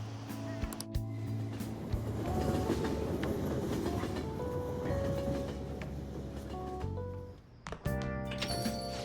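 Train ambience from the video game Persona 5 Royal: a steady rumbling ride with faint clatter and hum that runs loud and continuous, then dips and shifts near the end with a few sharper tones.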